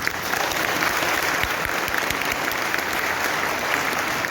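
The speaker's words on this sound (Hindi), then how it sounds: "तो इसके लिए एक मैनेजमेंट को ताली।" Audience clapping fills the room, a dense steady applause from a seated crowd at a speech event, sustained at even volume from start to end with no voices over it.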